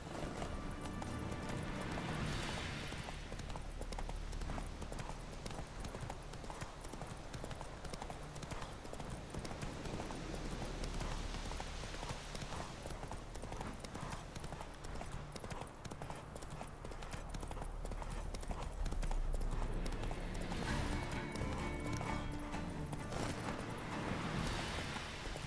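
Horse hooves clip-clop steadily through a long ride in The Witcher 3, a continuous close rhythmic clatter under dense game music and ambience, with a brief whinny possible near the end.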